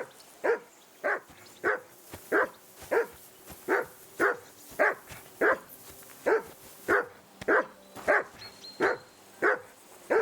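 A dog in Kingdom Come Deliverance 2 barks steadily and rhythmically, roughly twice a second, with loud, evenly spaced woofs that continue alone throughout without pause.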